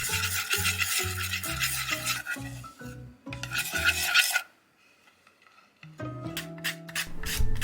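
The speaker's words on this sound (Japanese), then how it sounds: "人参はスライサーで千切りにします。" Carrot being julienned on a kitchen slicer for a napa cabbage salad: repeated rhythmic rasping strokes in two bursts with a short pause between, then a quieter stretch and a few sharper clicks and knocks at the end.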